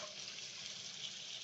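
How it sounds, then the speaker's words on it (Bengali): Onions and spices frying down for a curry in a pan, a faint, steady hiss and sizzle with no talking. "মশলা পেঁয়াজটা একটু হালকা নরম করে তারপর ভুনা করে দেবো"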